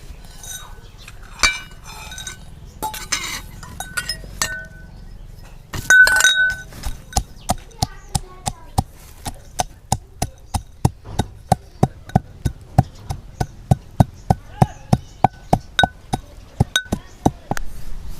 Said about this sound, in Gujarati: તો હવે આપણે શીંગના દાણા અને ગાંઠિયાને ખાંડી નાખવી.